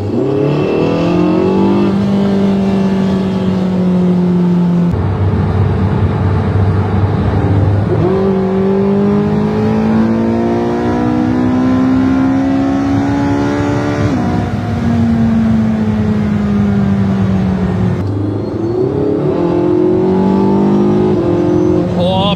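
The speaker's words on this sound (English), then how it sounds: "The power is so direct because we have a naturally aspirated engine and a hybrid powertrain" A naturally aspirated hybrid car drives hard and accelerates repeatedly, loud engine notes climbing through the gears with brief dips at each shift, heard close over the whole stretch with no voices.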